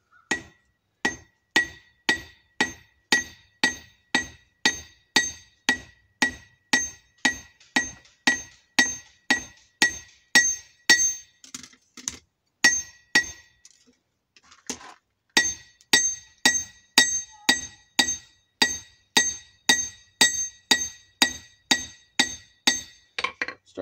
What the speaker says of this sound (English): Start forging that straight again.